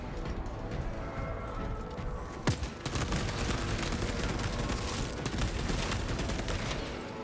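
Heavy bolter fire in a Warhammer-style video game, a dense, continuous stream of loud automatic shots with a sharp burst standing out early, steady and close throughout with no talk.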